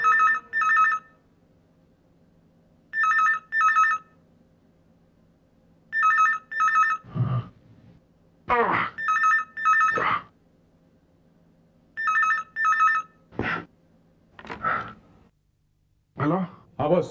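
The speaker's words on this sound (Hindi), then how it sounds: "बहुत देर से ट्राई कर रहा हूँ, फोन उठा क्यों नहीं रहे?" A telephone bell rings in repeated double bursts in a TV crime drama, with short stretches of speech and other sounds between and after the rings.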